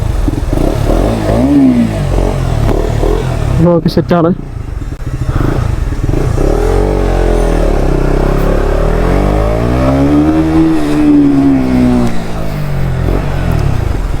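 A motorcycle engine revs loudly and close up, climbing and falling in pitch through several long sweeps, with a brief sharp burst partway through and someone speaking briefly over it.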